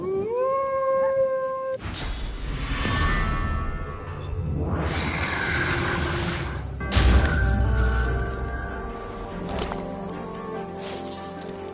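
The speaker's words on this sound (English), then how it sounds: "The canine spirit lifts his head to howl, but can barely manage a whimper." A canine spirit in the video game Divinity: Original Sin 2 lets out a thin, rising howl that fades into a weak whimper, followed by loud whooshing, shattering effects with a steady game soundscape underneath.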